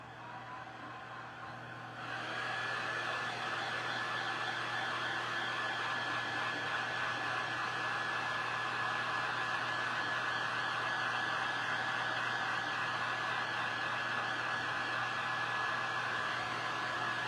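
A hair dryer dries DIY Halloween decor, a loud, steady, close whoosh that rises to full power after a couple of seconds and then holds unbroken, with no talking.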